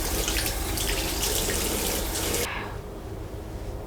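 A faucet runs steadily into a sink during face washing, a close, full rush of water that eases to a softer, quieter flow partway through.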